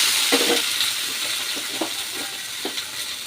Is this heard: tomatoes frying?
yes